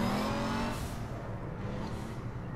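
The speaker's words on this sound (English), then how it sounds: "I can't hear you over my car." A car engine in the video game APB Reloaded revs and drones, loud and continuous for a couple of seconds, then eases slightly, with no talk over it.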